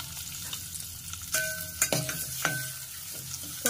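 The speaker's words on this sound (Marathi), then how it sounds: "आणि त्यामध्ये आहे ना कट केलेली अंडी आहेत ना ती टाकून घ्यायची" Cut boiled eggs fry in hot oil for egg curry, a steady close sizzle broken by a few sharp spatula knocks and scrapes against the pan as they are turned.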